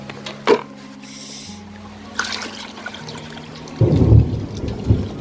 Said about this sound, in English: You see, it's still raining, you know,